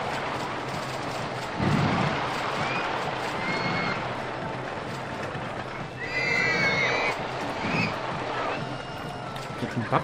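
A horse in the Rollercoaster Tycoon Classic video game gives several whinnies over a busy bed of park ambience, with a louder neigh near the start and more calls later.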